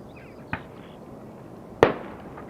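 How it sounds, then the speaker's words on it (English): Two sharp firework bangs set off by a bird controller at Amsterdam Schiphol Airport, a smaller pop followed about a second later by a louder, closer blast with a short echoing tail over steady outdoor background noise. "shooting off fireworks."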